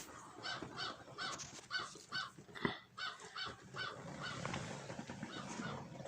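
Crows cawing outside, a series of rhythmic repeated caws in short bursts, taking turns, moderately distant and faint against a quiet background.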